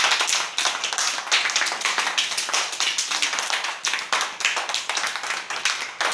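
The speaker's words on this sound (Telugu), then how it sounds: "అందరు టై కట్టుకుని ఒకసారి గట్టి క్లాప్స్ కొట్టండి." A group of children claps loudly in unison, a fast, sharp and steady run of close hand claps filling several seconds, with no talk over it.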